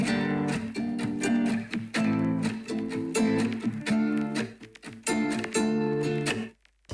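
Plucked nylon-string guitar chords with a bright, processed tone, strummed in a steady rhythm with sustained ringing notes, then cutting off abruptly at the end.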